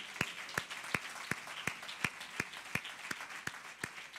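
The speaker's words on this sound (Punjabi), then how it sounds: "ਕੀ ਤੁਸੀਂ ਪ੍ਰਭੂ ਯੀਸ਼ੂ ਮਸੀਹ ਲਈ ਇੱਕ ਜ਼ੋਰਦਾਰ ਤਾਲੀ ਮਾਰ ਸਕਦੇ ਹੋ?" A church congregation claps for Jesus in a steady unison beat, roughly three sharp claps per second, evenly spaced and fairly faint, with no talking over it.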